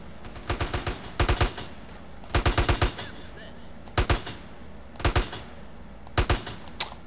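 Rapid automatic gunfire in GTA San Andreas comes in short, crisp bursts of three to five shots, separated by brief pauses, at moderate volume over a quiet background.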